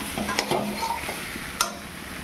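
Fried potatoes get stirred into a pot of cooking chicken curry, giving a brief, close scrape and shuffle over a low sizzle with a sharp clink near the end.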